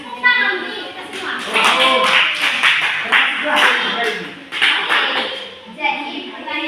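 A school class claps hands in rhythmic bursts of several claps each, close and fairly loud, with children's voices mixed in.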